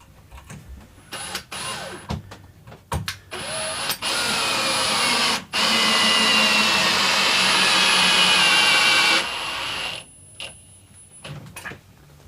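Drill driving 70mm screws into wood, with a loud, sustained whirring motor run of several seconds plus shorter bursts and clicks before and after.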